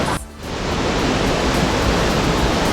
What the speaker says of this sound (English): We're here at this waterfall in a cloud forest, and it is so beautiful.